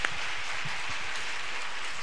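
Steady, dense applause from a seated audience at a Japanese homeopathy congress, a continuous rain-like patter of many hands clapping at an even level.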